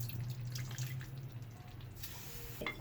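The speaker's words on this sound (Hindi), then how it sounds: "ये जो हमारी प्लेट में रह गए ना मसाले, ये भी इस तरह करके हम पानी से डाल लेंगे।" Water poured into a plate of leftover ground spices for beef nihari, a short quiet trickle with small drips and splashes, no talking.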